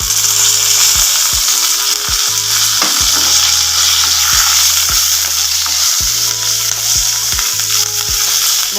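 Pirandai chutney ingredients with curry leaves sautéing in a pan, giving a loud, constant sizzle close up, broken by regular knocks and scrapes of a spoon against the pan.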